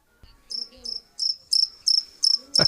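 Crickets chirp in steady, evenly spaced pulses, about seven clear repeated trills, sounding close and alone against near silence.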